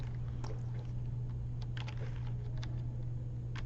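Keys clicking on a computer keyboard as a file name is typed, a quick irregular run of light taps over a steady low electrical hum.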